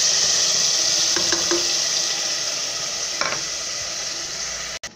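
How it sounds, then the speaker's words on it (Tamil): Ground spice paste for a mutton curry hits hot oil with a steady close hiss, and a spoon scrapes and stirs through the pan a few times before a brief clunk. "இப்போ வந்து எண்ணெய் சூடாகிருச்சு. நம்ம வந்து அரைச்சி வச்சுருக்க இந்த விழுதை இதோடு சேர்த்துக்க போகிறோம்."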